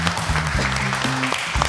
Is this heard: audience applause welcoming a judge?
yes